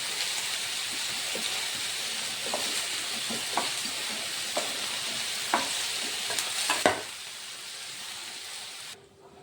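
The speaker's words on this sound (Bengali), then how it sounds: "চিংড়ি মাছের তেলের মধ্যে আমি দিয়ে দিচ্ছি এঁচোড়গুলো একটু ভেজে নেব" Jackfruit pieces frying in prawn-flavoured oil give a steady close hiss and sizzle, broken by scattered clicks and scrapes of a spatula, then the sound drops away near the end.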